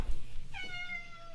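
A cat gives a single clear meow, close and fairly quiet, after a brief low thump, with no talking.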